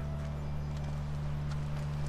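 Horse hooves clip-clop in The Last of Us at a dam ranch house, a steady soft run of hoof beats over a constant low hum, with no talk.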